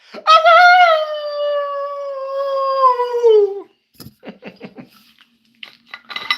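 A person imitates a howl: one long, loud, wavering cry that slowly falls in pitch, followed by quieter clattering noises.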